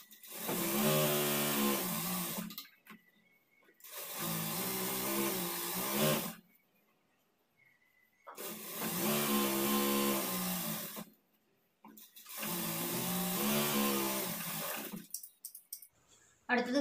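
An electric sewing machine stitches a folded half-inch hem on a nighty sleeve in four bursts of steady, rapid whirring, each a few seconds long, with brief quiet pauses between runs.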